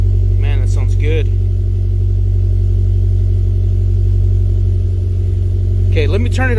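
A Toyota MR2 engine idles steadily on a dyno, a loud constant low drone filling the whole stretch, while someone talks briefly near the start and again at the end.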